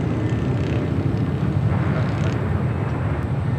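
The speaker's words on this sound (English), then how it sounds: "that is Eva Air Flight 5 heading back to Taipei" An Eva Air Boeing 777-300ER bound for Taipei roars steadily at LAX, a dense broadband jet rumble holding constant throughout.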